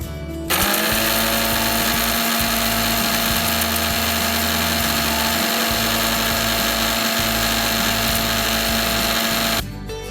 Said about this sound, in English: I'm going to give it one more grind.